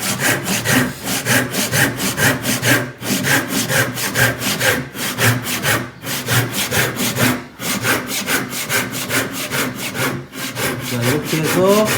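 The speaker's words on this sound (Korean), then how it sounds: "계속 좀 더 무리하게 톱질을 하시면 힘이 많이 들어갈 수밖에 없죠" A hand saw cuts wood at an angle during basic joinery practice, making steady, rhythmic push-pull strokes with brief pauses, close and loud with no talk.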